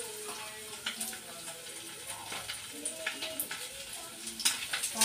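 Chicken pieces frying in hot oil in a pan, giving a soft steady sizzle with faint crackles and occasional stirring clinks, moderately close and fairly quiet throughout.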